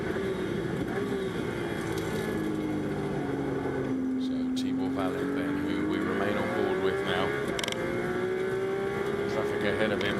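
Ferrari Challenge race car accelerating during qualifying at Portimão, a rising engine whine that climbs and dips steadily over a continuous background of track noise, heard at a distance beneath commentary.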